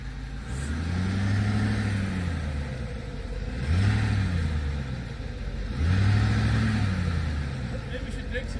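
A 1965 Ford F750 fire truck with a 391 cubic inch V8 strains to pull itself out while stuck, its engine revving in three rising-and-falling surges, loud and close, with voices talking over it.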